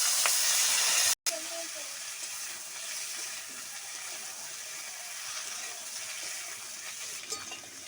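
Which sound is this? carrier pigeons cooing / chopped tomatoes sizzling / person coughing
chopped tomatoes sizzling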